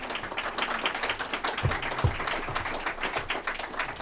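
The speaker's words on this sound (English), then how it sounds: "Let's give them a round of applause" An audience applauds a panel at the end of a speaker series event, a quiet, steady wash of many hands clapping at a moderate distance, with a couple of louder thumps partway through.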